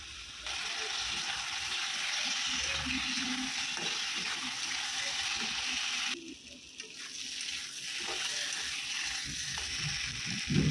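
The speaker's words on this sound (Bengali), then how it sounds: "তার জন্য আলু দিয়ে দিলাম, মশলা দিয়ে দিলাম ওই মাছ ভাজা তেলে" Potatoes with spices fry in oil left over from frying fish, giving a dense steady sizzle that briefly drops away and then returns, with faint clinks of stirring.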